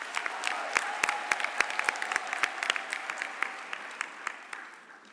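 Audience applauding the DUT chorale at a university graduation ceremony, a moderate round of scattered, distinct hand claps in a large hall, steady and then thinning toward the end.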